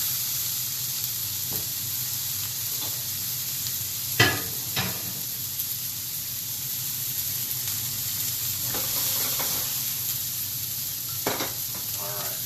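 A bison patty fries in oil in a pan, giving a continuous close sizzle with a few sharp scrapes and clatters from a utensil, and no talking.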